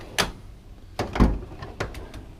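A drawer of a toolbox slides open, producing several scraping, rattling bursts with metallic clinks of tools shifting inside. The sounds are close and moderately loud, with no voices.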